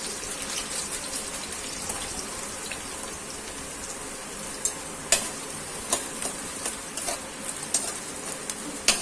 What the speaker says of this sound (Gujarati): મરચું ને લસણ સાતળાઈ ગયું છે. હવે આપણે તેમાં ડુંગળી નાખીશું.